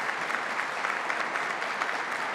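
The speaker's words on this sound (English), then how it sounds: "So let's give another round of applause to our host here today." Applause from a crowd at a New York State budget announcement event, a dense even roar of many hands clapping that stays steady and fairly loud throughout.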